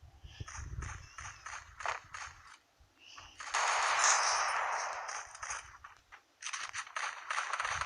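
Gunfire in the mobile shooter Free Fire: rapid bursts of game shots and clicky weapon sounds, with a long dense burst of automatic fire in the middle, fairly close and loud.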